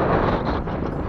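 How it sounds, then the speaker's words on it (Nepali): Cold wind buffeting a microphone outdoors on a motorbike ride, a loud, dense rumbling roar that holds steady for about a second with no voices. "यहाँ हेर्नु अब कस्तो चिसो हावा चल्छ है।"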